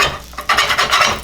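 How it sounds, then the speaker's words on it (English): Kaiserschmarrn pancake is torn and cut up in a heavy pan on the stove, giving a short burst of close, loud scraping and rasping strokes of utensil against metal. "Kaiserschmarrn is just kind of ripped up, cut up in bite-sized pieces, done right on the stove."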